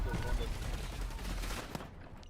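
Gunfire in the battle royale shooter Call of Duty Warzone, a dense rattle of shots crackling continuously over a busy game mix for a couple of seconds, fading slightly toward the end.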